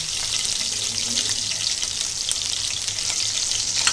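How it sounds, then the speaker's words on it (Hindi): Whole green chillies and curry leaves fry in hot oil, making a bright, continuous crackling sizzle that stays even and close for the whole stretch, with no voices. "करी पत्ता डाले, अभी मिर्ची डालेंगे। दो मिर्ची अक्की डालेंगे।"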